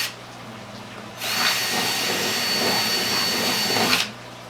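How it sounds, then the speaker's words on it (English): A power drill bores a hole through the lid of a 5-gallon plastic tote, a loud steady whine lasting about three seconds, starting and stopping abruptly, with no talk. "So let's drill the hole."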